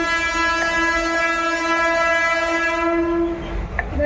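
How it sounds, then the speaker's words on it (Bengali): A loud, sustained train horn blares nearby as a train passes, then cuts off abruptly near the end, leaving rumbling rail noise. "ট্রেনের আওয়াজে সমস্যা হয়"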